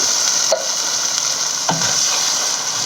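A canned ingredient is stirred into a sizzling shakshuka pan, steady frying hiss with two soft scraping strokes of the spoon, close and without talk.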